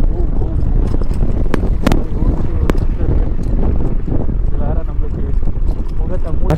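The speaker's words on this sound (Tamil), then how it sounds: "ஓ கோல்டான காற்று வந்துங்குதுங்க இந்த இடத்துல." Cold wind buffets the microphone in a steady roar during a scooter ride on a long road trip from Chennai to Ladakh, continuous and loud across the whole stretch.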